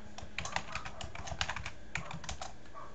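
Quick bursts of keystrokes on a computer keyboard as a password goes in, irregular clicky taps in short clusters with pauses, close and unaccompanied by talk.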